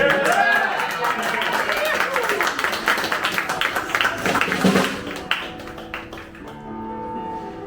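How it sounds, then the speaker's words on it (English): Audience applause at an international spoken word and music night, a dense patter of clapping with cheers and voices mixed in, fading toward the end as talk and music begin. "Round of applause for that."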